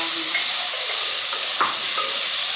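Tomatoes hitting a hot pan for degi-style palak chicken and frying with a loud, steady, close sizzling hiss throughout, with faint stirring clinks underneath.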